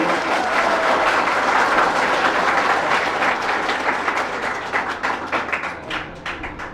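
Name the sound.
applause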